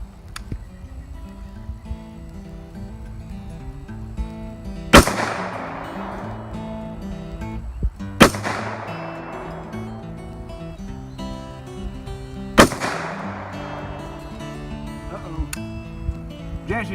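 Three sharp, loud SKS rifle shots crack out at a shooting range, evenly spaced a few seconds apart, each followed by a brief decaying echo over a steady background of music.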